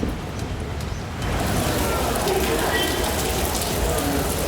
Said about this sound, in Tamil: கொடைக்கானல் மற்றும் அதன் சுற்றுவட்டார பகுதிகளில் சுமார் 2 மணி நேரத்திற்கு மேலாக மிதமான மழை பெய்தது